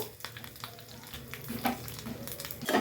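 Curry leaves fry in hot oil for a homemade herbal hair oil, giving a steady crackling sizzle with occasional louder pops and stirring scrapes, close and without talk.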